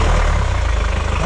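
A Volvo Penta D2-75 marine diesel engine, started manually by hand, runs with a steady low throbbing rumble close by, its pulses even throughout and no voices over it.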